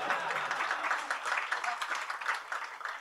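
A conference audience at a Prometheus monitoring talk breaks into a short burst of scattered, fairly quiet clapping that rises and falls unevenly.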